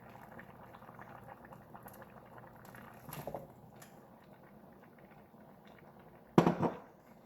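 Unripe plantain and beans boil in a pot, giving a steady, quiet bubbling that runs throughout, with a brief louder splash partway through and a sharper splash or clatter near the end.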